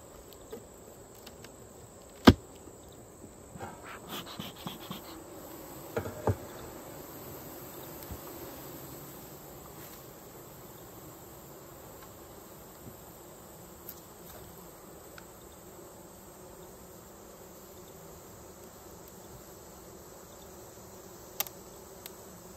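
Bees buzz faintly around a weak beehive as it is smoked for a queen check: a low, steady insect hum runs throughout, broken by a few scattered sharp clicks and knocks, with no talking.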